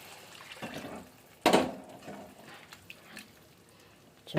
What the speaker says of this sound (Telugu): మంచిగా కలియపెట్టి కొన్ని వాటర్ యాడ్ చేద్దాము.